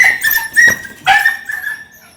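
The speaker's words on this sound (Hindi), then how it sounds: "देखो भाई कुत्ते घुस जा रहे जिधर बने उधर घरों में।" Stray dogs roaming into houses in Bhainsa whine and yelp in high, close whimpers, several short cries in quick succession over about two seconds.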